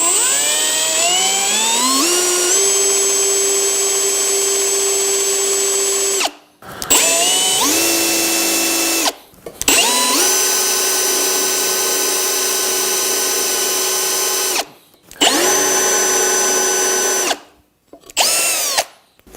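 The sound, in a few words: power drill drilling a straight hole in wood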